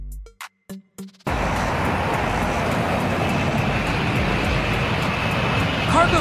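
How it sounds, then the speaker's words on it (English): A cargo jet, an air freight plane, roars with a steady, loud broadband engine rush after a few short choppy bursts at the start, sustained and near throughout. "Cargo jet, air freight plane."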